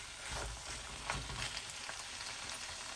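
Dry Fiji-style goat curry with coriander fries on a stove, giving a close, steady crackling sizzle with a few soft stirring bumps.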